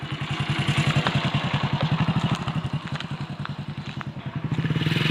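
A motorcycle engine runs close by at a low idle with a fast, even chugging pulse as the bike is brought around on a rough, broken path, and the revs rise slightly near the end.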